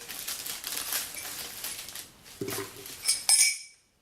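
A small white cup with a red interior and a small spoon clink together in a few quick, bright taps near the end, after a stretch of soft rustling handling noise.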